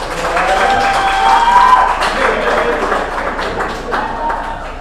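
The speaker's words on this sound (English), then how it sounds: "How about a round of applause for John?" An audience at a comedy show in the Thousand Oaks Elks Lodge applauds for John, with a lively clatter of many hands swelling and then fading while a voice talks over it.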